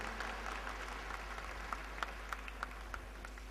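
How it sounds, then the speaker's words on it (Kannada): A church congregation applauds to welcome a priest at his first mass, a soft, distant patter of clapping over a low electrical hum, with a few sharper claps standing out. "ಎಲ್ಲರೂ ಚಪ್ಪಾಳೆ ತಟ್ಟಿ ಸ್ವಾಗತ ಬಯಸೋಣ"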